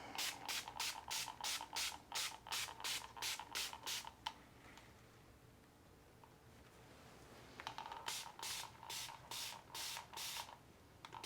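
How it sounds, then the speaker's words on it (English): A spray bottle misting a houseplant pumps in quick rhythmic bursts, a run of sharp misty hisses, a pause of quiet, then another steady series of sprays, close by. "So I'm just gonna spray."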